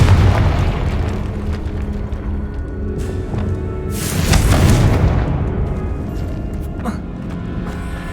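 Magical blasting-spell explosion from Hogwarts Legacy: a broad booming burst swells around the middle of a dense, continuous game soundscape, with a softer impact later, all under steady background rumble.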